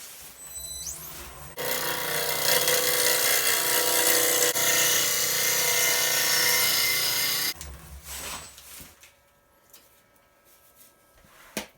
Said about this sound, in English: So I'm going to do a couple push cuts inwards again and see if we can't get those fibers to settle down